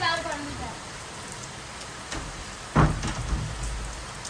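Heavy rain pours down at night in a village, a steady dense hiss with scattered nearer drops and a sharp louder patter partway through, with no voices heard.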